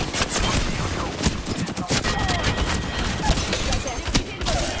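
Rapid gunfire in an Apex Legends match, dense bursts of shots and impacts crowding together over a few seconds, loud and close with game effects layered in, no talking.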